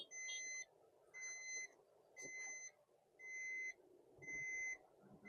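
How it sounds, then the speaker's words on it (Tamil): Electronic seat belt reminder beeps sound in five regular pulses, about one per second, over a low steady engine hum inside a Maruti Eeco. "உங்களுக்கு சீட் பெல்ட் ரிமைண்டரோட பீப் உங்களுக்கு கேட்கும்னு நினைக்கிறேன்"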